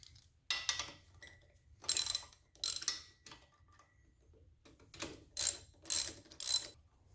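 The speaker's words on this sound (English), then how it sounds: "when I put the pipe on, I have to screw this in and then connect the sensor" Exhaust sensor being screwed into Vance and Hines Short Shots pipes on a Harley Heritage Softail, with about eight sharp ratcheting bursts in irregular rhythm, close and clear, and no talking.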